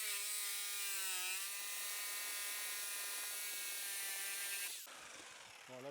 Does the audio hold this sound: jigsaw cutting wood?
yes